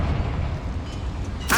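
Confringo fire spell exploding inside a small mine in the game Hogwarts Legacy, a single sharp burst arriving abruptly at the very end after a low, murky ambient rumble.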